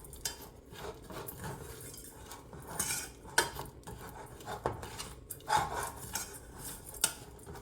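Sugar melting in a pot is stirred steadily, a utensil scraping and clinking against the pan in an uneven rhythm with occasional louder knocks, close up and with no talking.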